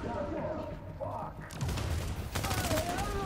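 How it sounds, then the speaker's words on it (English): Gunfire in a Predator video game, bursts of shots crackling in the second half as someone talks over the action. "How many shots are really going to take?"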